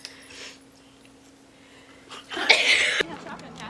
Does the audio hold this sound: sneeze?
yes